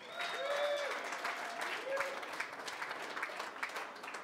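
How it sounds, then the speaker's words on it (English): At a women's boxing event, the crowd applauds steadily as a boxer is introduced, a dense, even patter of clapping heard under an announcer's talking. "Please, a big round of applause for Kali Cahira Salmon."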